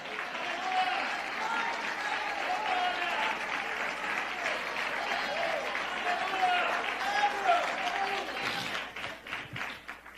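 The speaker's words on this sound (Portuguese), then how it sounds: "Exalta o Senhor com as tuas palmas." A packed church congregation applauds loudly and steadily for several seconds in a dense wash of clapping, with voices mixed in, before the clapping thins out near the end.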